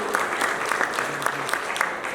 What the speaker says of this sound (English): So round of applause, ladies and gentlemen, for the social media team